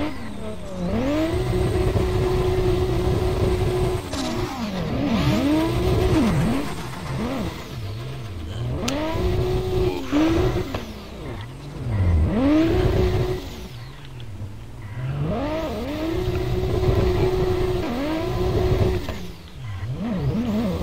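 Drifting car in the Roblox game $olitary, its engine revving continuously in loud, rising and falling sweeps as the car slides, with brief dips between bursts and no talk over it.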